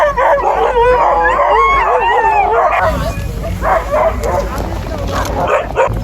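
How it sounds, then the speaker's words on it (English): Sled dogs at a dog sled mail run near Barkerville, barking, yipping and howling excitedly, close and loud, with people talking over and between the calls. "It's the dog sled mail run day here in Quinnell, Wells, Barkerville, and beyond."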